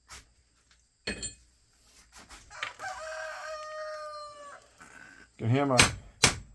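Joker, a rooster, crows nearby in the background with one long drawn-out cock-a-doodle-doo, followed by short clucks and bursts of noise, amid quiet surroundings with occasional clanks.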